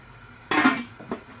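A lid set onto a cooking pot of braising lamb shank: one close metallic clank with a brief rattle, then a smaller second knock a moment later, with no talking.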